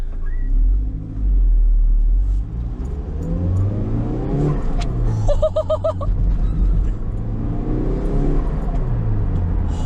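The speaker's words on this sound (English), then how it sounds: "I can try to accelerate here a little bit and feel it out for the first time" A turbocharged Toyota MR-S engine revs and accelerates hard, loud and close, with a deep rumble rising in pitch and a brief whine partway through.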